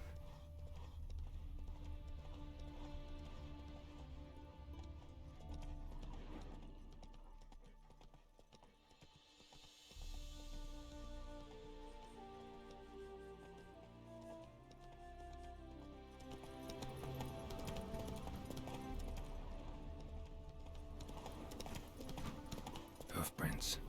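Hooves of the horse Roach clip-clop steadily in the video game Witcher 3, with occasional snorts, faint and moving under ongoing talk.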